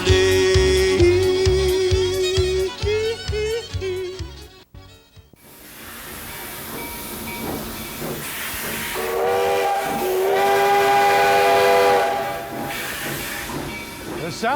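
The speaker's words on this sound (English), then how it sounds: "The sound of steam locomotion has pierced the silence of the Black Hills for over 100 years" Steam locomotive in the Black Hills, loud steam hiss and broad rail noise with a long sustained whistle blast near the end, rising and holding over continuous rumble.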